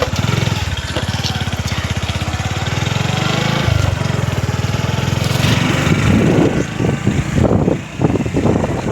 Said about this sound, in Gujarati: અમે બાઇક લઈને જઈએ છીએ।